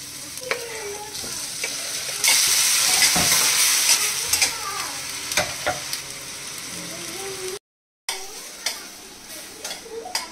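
A spoon scrapes and stirs boiled egg chutney in a frying pan, with steady sizzling underneath, clinks of metal on the pan, and a brief dropout near the end.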